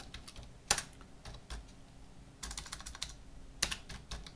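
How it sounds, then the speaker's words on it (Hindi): Computer keyboard typing in Microsoft Word, a run of clattering keystrokes with a few sharper, louder key hits spaced through it, close and continuous with no voices. "सिर्फ कीबोर्ड में हम एक शॉर्टकट की दबाएंगे"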